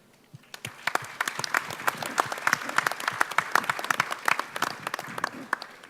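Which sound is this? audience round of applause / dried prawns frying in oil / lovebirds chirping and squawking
audience round of applause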